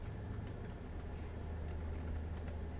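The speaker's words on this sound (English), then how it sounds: "I can add people to the group workspace by simply typing in their email" Fingers tap steadily on a computer keyboard as an email address is entered to invite someone into a group workspace, producing a dense, continuous run of light clicks over a low steady hum, with no talk.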